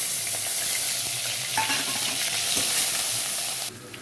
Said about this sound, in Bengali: এবারে আমি এই যে তেল গরম হয়ে গেছে এই যে কালো কালো জিরে আর শুকনো ওই কাঁচা লঙ্কা এটা আমি ফোড়নে দিলাম ও পেঁয়াজ বাটা দিয়ে দিলাম